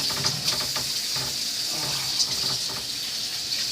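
Potatoes being washed under a running kitchen tap, a steady broadband rush of water with irregular splashes and knocks as they are handled, continuous and close.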